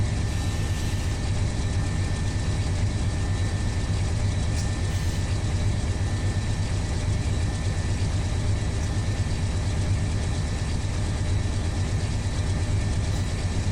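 Steady, loud diesel locomotive engine in Run 8 Train Simulator, hauling heavy freight on the Fitzgerald Sub, with a constant deep rumble and drone that holds level throughout.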